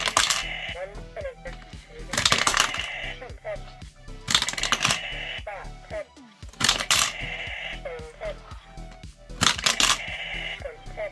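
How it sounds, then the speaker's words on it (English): Coins dropped one after another into a Science Museum robot money bank, each landing with a bright metallic clatter and mechanical clicks, repeating in bursts about every two seconds, close up and fairly loud. "we'll start depositing some of the coins in there now"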